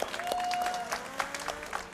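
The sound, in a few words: applause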